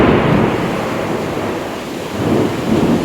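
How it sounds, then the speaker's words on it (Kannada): Strong, steady wind of a thunderstorm roars close by with broad rumbling noise, rising in gusts near the end; no voices are heard. "ಗುಡುಗು ಗಾಳಿ ತುಂಬಾ ಬಿಟ್ಟಿದೆ ಫ್ರೆಂಡ್ಸ್ ನೋಡಿ ಎಷ್ಟು ಗಾಳಿ ಬಿಟ್ಟಿದೆ ಅಂತ"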